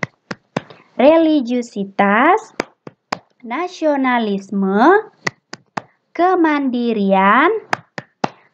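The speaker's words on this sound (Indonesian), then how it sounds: "Akhir kata Miss tutup dengan tepuk PPK." Sharp single hand claps fall in a rhythmic pattern between bursts of a teacher's spoken chant, the call-and-clap routine of a Tepuk PPK clap chant.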